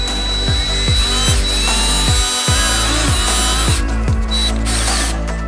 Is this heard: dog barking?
no